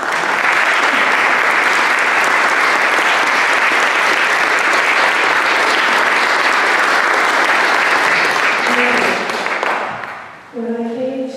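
Sustained loud audience applause welcoming a performer at a farewell concert in a church, dense and even for about ten seconds before fading, followed by a brief tonal note as the clapping dies away.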